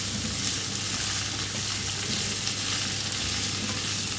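Bottle gourd (lauki) pieces frying in hot oil as they are stirred, a dense, even sizzle that holds steady and close throughout with no voices.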